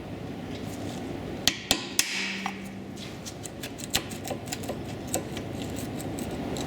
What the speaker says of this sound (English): we'll grab the punch and we'll just finish it off from this side